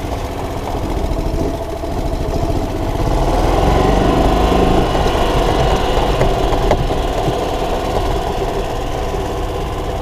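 A Club Car golf cart engine idles steadily after carburetor cleaning, a continuous close, loud small-engine putter with an even rhythm and no talking.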